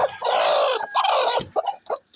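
Native chickens kept in a rural backyard cluck loudly and continuously up close, with a brief pause and then several shorter clucks trailing off at the end, no talking.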